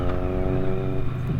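A Triumph Street Triple motorcycle engine hums close by with a steady, even running tone, holding roughly constant for the short moment.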